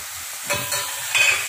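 Vegetables for a diet soup are being sautéed in a pan, with a brief, loud burst of close sizzling and a few stirring scrapes over a second and a half.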